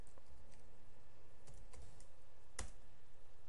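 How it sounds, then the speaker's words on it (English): Keys clatter on a computer keyboard in short bursts of quiet typing, ending with one sharper keystroke, alone with no talk. "Let me just type in a random one."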